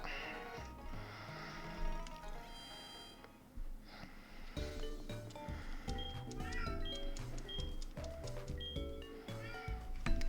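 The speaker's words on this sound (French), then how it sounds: "j'ai mon chat qui commence à s'énerver là" A house cat meows repeatedly and grows agitated, its cries rising over steady video game music playing in the room.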